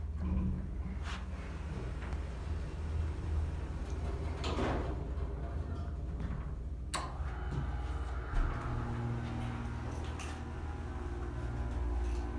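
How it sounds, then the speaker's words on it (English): Otis Series 5 elevator doors sliding shut and then reopening, with a muffled thud and a sliding rumble over steady background hum, fairly close and moderate in level. "If you let it go right before the doors close, the door opens back up."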